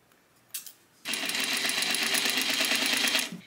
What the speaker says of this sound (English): I'm going to go ahead and stitch a straight stitch like that, a quarter of an inch from the raw edge.